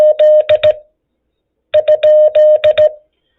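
Two short bursts of Morse code tone keyed on a radio frequency, a question mark being sent, each a crisp sequence of beeping dits and dahs separated by a brief silence, clear and close with no talk.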